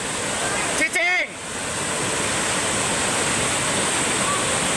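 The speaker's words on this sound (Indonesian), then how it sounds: "Terjangan arus deras melanda Kampung Cibayoni, Desa Kertajaya, Sumur Pandeglang, Banten." Floodwater rushes past in a strong current in Kampung Cibayoni, Sumur, Pandeglang, Banten, a loud, continuous broadband roar that is briefly broken by a short voice near the start.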